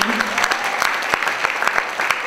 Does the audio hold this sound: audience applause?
yes